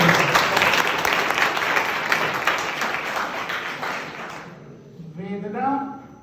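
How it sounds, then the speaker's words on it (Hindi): Applause from a student audience at a lecture on human values and the constitution, dense clapping that fades out, followed by a voice speaking briefly. "ताली बजाओ, इन्होंने"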